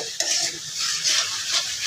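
Spice paste frying in oil in a pan with steady stirring, a close, continuous sizzle broken by a few soft scrapes of the spoon.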